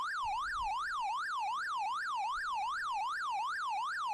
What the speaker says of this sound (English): The siren in a lot of these games is super annoying too.